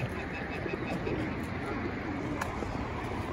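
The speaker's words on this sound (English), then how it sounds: "They are so amazing pigeons." Pigeons coo softly close by, a low, steady murmur with no talking, set against a faint background hiss.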